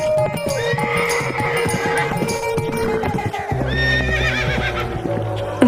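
A horse neighs loudly and repeatedly while its hooves clip-clop nearby, a full whinny rising over steady hoof beats throughout.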